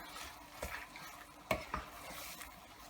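Beef fries in a pan on high heat, with a soft sizzle under a few sharp scrapes and clinks of a utensil stirring it, close and fairly quiet.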